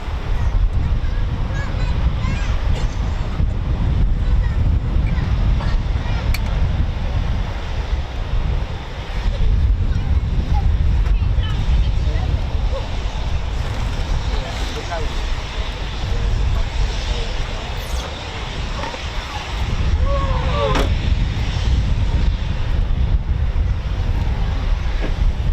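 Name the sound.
Eurofighter Typhoon FGR4 jet taxiing at RAF Coningsby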